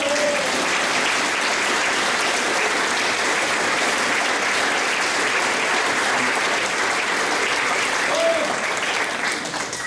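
Audience applause at an annual choir concert, a dense, steady clapping that fills the room for about ten seconds at a constant level, with faint voices briefly audible within it.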